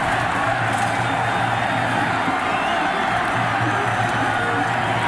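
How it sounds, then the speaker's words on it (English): A big stadium crowd of Nebraska fans roars and cheers without a break at a college football game at Colorado. The noise is a loud, dense wash of voices with whoops rising through it. "And you hear the crowd here."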